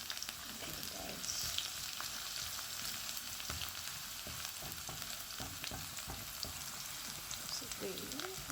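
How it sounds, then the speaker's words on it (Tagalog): Garlic sautés in hot oil in a pan with a dense, continuous sizzle and scattered spatula scrapes; a faint voice briefly surfaces in the background. "Saute the garlic."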